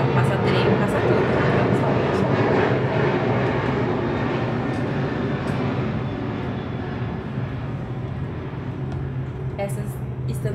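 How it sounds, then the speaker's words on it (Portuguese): An airplane passes overhead near a home in Brazil where planes and trains often go by. It makes a broad, loud engine roar that slowly fades over ten seconds while a voice talks over it. "tá passando avião aqui"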